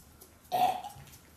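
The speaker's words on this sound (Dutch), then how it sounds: "Ja, dat is echt fucking veel boeren van laten." A loud burp after eating baby food, rising suddenly and trailing off in a single drawn-out belch, with no talk over it.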